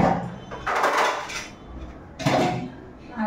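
Scrubbing and clattering while a gas stove is cleaned in a home kitchen after cooking, heard as two bursts of close scraping and knocking of metal parts separated by a quieter pause.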